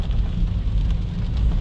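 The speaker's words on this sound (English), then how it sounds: "The rain is kind of coming down hard." Heavy rain falls on a moving car, heard as a dense, even rumble with steady low hiss and no talking.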